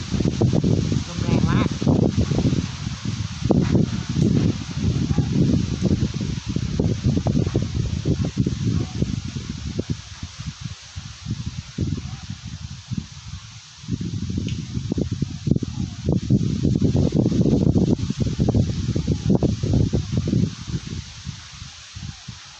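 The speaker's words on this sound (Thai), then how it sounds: "ลมพัดแรงนะคะ แรงมากเลยนะคะ" Strong wind gusts roar steadily across an open rural field edge, a dense rushing and rustling that swells and eases in waves throughout, with brief lulls, close and loud.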